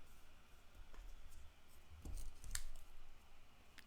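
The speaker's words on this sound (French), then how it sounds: "J'ai juste à couper le bout." Quiet close snips of scissors trimming the end of a cardboard scrap, a few soft crunchy cuts with a sharper snip near the end, faint and with no voices.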